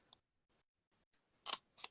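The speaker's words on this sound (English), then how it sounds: "I'm going to bring in my long scissors because I do want to do a big snip" Long scissors cut paper in two crisp snips close to the mic near the end, after faint scattered clicks and quiet gaps, during Christmas craft-making.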